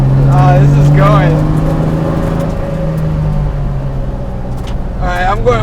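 A BMW E30 fitted with an S52 engine drones steadily at around 3,000 RPM from inside the cabin, a loud low hum with people talking over it.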